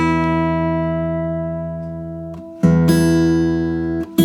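Two sustained guitar notes, one string slightly flat, ring together with a slow wavering beat between them, briefly cut off and re-plucked, loud and close with no talking.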